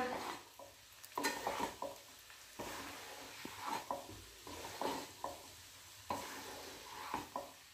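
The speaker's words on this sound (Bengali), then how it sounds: "2 মিনিট নাড়াচাড়া করলেই রেডি পাস্তা" Pasta being stirred in a frying pan with a tangy sauce, scraping and sizzling in repeated bursts of spoon strokes against the pan, close and clear with no talk.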